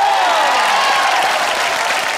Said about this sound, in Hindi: घायल वंस अगेन के लिए जोरदार तालियां हो जाए।